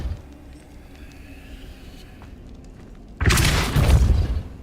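The Depulso force spell fires in the video game Hogwarts Legacy, a sudden loud, broad blast that follows a stretch of quiet ambience and then dies away.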